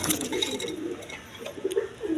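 Big-sized Indian Kaldom pigeons, a male and female pair, give soft repeated coos that sit fairly close, with brief bird calls mixed in and a low murmur of background noise.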